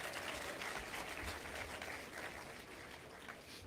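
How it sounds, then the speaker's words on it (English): Audience applause filling a church during a Jamaican diaspora forum, a steady dense clapping from a large crowd that holds fairly even for several seconds before easing slightly, with no talk over it. "Give yourselves a round of applause."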